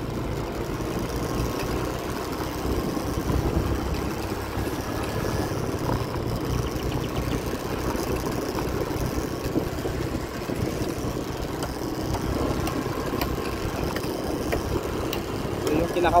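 A Honda Click scooter's engine drones steadily for the whole ride, a constant low hum with road rumble.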